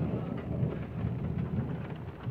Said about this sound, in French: C'est un orage modéré.